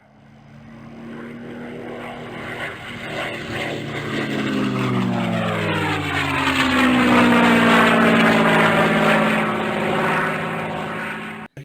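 Propeller fighter plane in flight, like a Spitfire or P-51 Mustang, its engine drone swelling from a distant rumble to a loud, sustained roar with a sweeping pitch shift as it passes close, steady and without talk.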